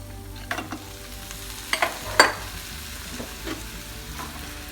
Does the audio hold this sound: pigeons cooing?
no